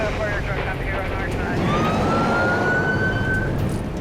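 Police car and fire truck sirens wail steadily at a stormy highway crash scene where a pickup went down a creek bank, with a rising siren tone over heavy rain and traffic noise.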